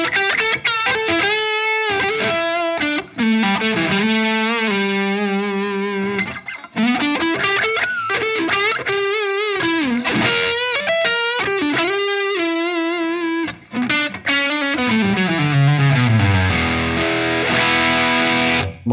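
An electric guitar played through a Wampler Pantheon Deluxe dual overdrive pedal at a middle gain setting: loud, crunchy driven chords and sustained single notes ring out alone, with brief gaps between phrases and a descending run near the end.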